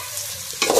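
Macaroni mixture stirred in a pan after turmeric powder goes in, a soft sizzle that swells into a brighter scraping and frying burst toward the end, close and brief with no talking.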